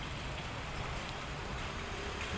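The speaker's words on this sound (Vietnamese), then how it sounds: "Trời chuyển mưa luôn." Steady rain falls at a bus station in Binh Duong, Vietnam, a dense even hiss of drops on surfaces continuing without break, no voices heard.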